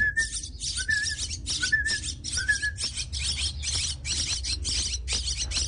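Young bird chicks call back in a rapid series of shrill, high chirps, opening their beaks for food after a person whistles. A few short whistle notes come early, and the chirps repeat steadily over a low background hum.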